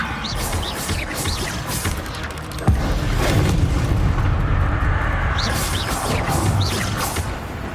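Confringo blasting spell explosions in the Hogwarts Legacy video game, a sharp boom followed by sustained rumbling crashes and debris over continuous game ambience and music.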